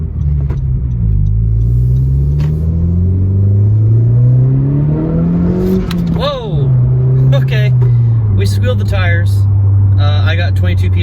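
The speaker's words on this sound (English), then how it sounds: "Go for a little drive around the block." A 2020 Honda Civic Si running a Ktuner tune drives on a street with its engine revving up and easing off, loud and close from inside the car, with a driver talking over it.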